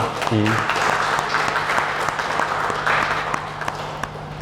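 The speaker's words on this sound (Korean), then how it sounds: "수고해 주신 두 분 자매님께 한번 박수 한번 부탁드리겠습니다" A church congregation at Sunday Mass applauds the volunteers who decorated the altar with flowers, sustained clapping filling the room, with a brief tone near the start.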